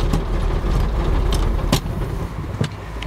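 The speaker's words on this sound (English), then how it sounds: "Leave that running." A 1913 Pilot car's large 450-cubic-inch T-head engine idling, a steady low rumble with a few sharp clicks and rattles on top, close and loud throughout with no talking.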